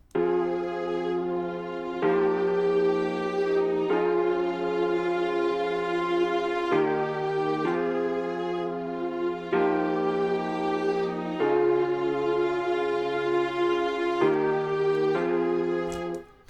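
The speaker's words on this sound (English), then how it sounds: "what started this composition was the mix of chords and a string melody" Sampled chords from a cassette-style keys preset layered with a sustained string melody, shifting through several chord changes every couple of seconds, full and steady with no talk.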